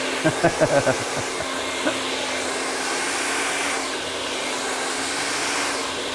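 Hair dryer blasting on high heat while blow drying curly hair, a loud continuous airy roar with a steady motor whine, close by, with a few brief clicks or handling knocks near the start.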